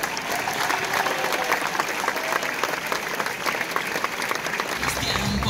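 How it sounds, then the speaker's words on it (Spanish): An audience applauds at a football club's season presentation for Pontevedra C.F., a dense, sustained burst of clapping from many people filling the hall evenly for several seconds. "Un aplauso."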